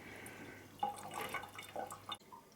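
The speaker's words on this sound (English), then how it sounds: "There's the excess water dropping out of here." Excess cooling water from the water supply of a Coherent i70 laser drips and splashes out in a quiet indoor setting, a few soft close drops and a brief trickle, ending with a small clunk.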